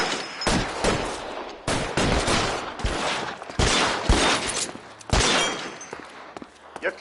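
A gunfight in the crime video game LA Noire: repeated loud gunshots and short bursts crack out in irregular volleys, close and sharp, with brief lulls between them.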